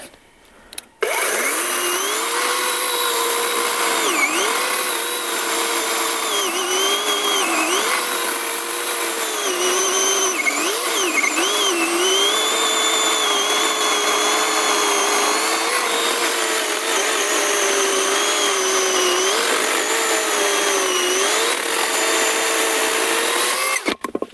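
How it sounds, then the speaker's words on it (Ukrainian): A cordless chainsaw, either a Grosser GCS 120SF or a ProCraft PKA 42li, cuts through red oak with a loud, continuous whining buzz whose pitch dips and recovers as the chain bites into the wood, running steadily for over twenty seconds. "А тепер пробуємо різати от такого червоного дуба."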